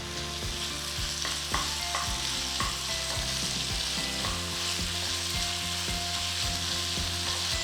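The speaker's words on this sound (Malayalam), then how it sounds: "ഇതെല്ലാം കൂടി ഇട്ട് നന്നായിട്ടൊന്ന് വഴറ്റിയെടുക്കുക" Garlic cloves and chutney ingredients sauté in a hot pan, giving a continuous close sizzle with regular clicking, scraping strokes from a stirring spoon, no voices.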